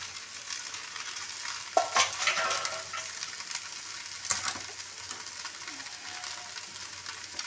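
Poha, flattened rice, is stir-fried in a pan with a soft, constant sizzle, punctuated by a few sharp scraping strokes of a spoon against the metal.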